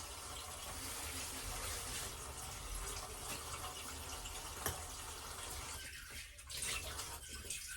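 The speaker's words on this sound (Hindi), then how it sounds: "देखिए गर्म पानी आ गया।" Hot water runs from a kitchen tap in a steady, close gushing stream, with a brief dip and a few splashes near the end.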